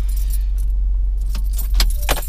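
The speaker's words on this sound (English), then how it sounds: "you want to bring the keys with you because some cars require the key to open the cap." Car keys jangle close by in a few brisk bursts over a steady low engine or forecourt hum while refuelling a car.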